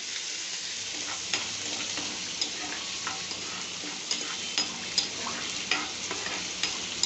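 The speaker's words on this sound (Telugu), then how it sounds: "1 కప్పు ఆనియన్స్, 4 పచ్చిమిరపకాయలు సన్నగా ఇట్లా కట్ చేసి పెట్టుకున్నా. కొద్దిసేపు మంచిగా వేగనిద్దాం" Thinly sliced onions and green chillies fry in a pan with a steady, moderate sizzle. Small spatula taps are scattered throughout.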